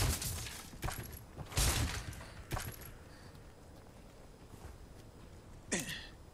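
Gunfire in the Resident Evil 4 remake video game: a few sharp shots ring out, two close together early, another shortly after and one more near the end, each leaving a short metallic ring over quiet game ambience.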